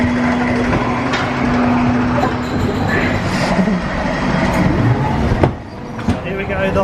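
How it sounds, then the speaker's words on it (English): A ghost train dark ride, the Haunted Hotel at Great Yarmouth Pleasure Beach, rumbles along steadily with a loud, continuous rolling drone, rattles and clacks, and a few brief squeaks near the end. "You've got the ghost train over here, which is a haunted hotel."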